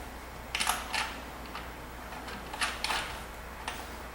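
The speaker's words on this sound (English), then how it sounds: "just use the adjustable down here to hold it while I tighten it up" A crimp nut being tightened with an adjustable wrench on a homemade bike rack: a few faint, sharp metallic clicks and ticks in small irregular clusters against a quiet background.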